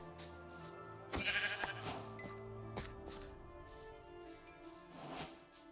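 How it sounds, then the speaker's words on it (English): Sheep in a Minecraft survival world bleat in a few short, wavering calls over a quiet game backdrop, sounding faint and fairly distant. "There's some sheep over here."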